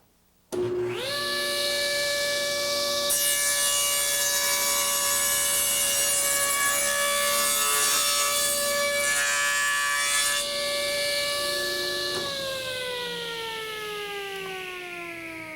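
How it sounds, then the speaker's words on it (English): Table saw with a crosscut jig cutting the cheek of a wooden joint in one pass, a loud sustained whine that starts abruptly, holds steady through the cut and drops slightly in pitch toward the end. "I've cut the entire cheek here."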